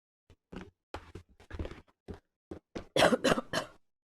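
A string of short, dry coughs and throat-clearing bursts, close by, building to a louder cluster of harsh coughs near the end.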